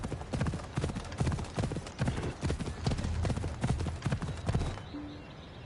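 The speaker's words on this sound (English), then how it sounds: "I need to take this horse either to Adonis or to the stable boy." In the game Assassin's Creed Odyssey, a horse's hooves clip-clop steadily and close on hard ground, a rapid continuous gait that stops near the end.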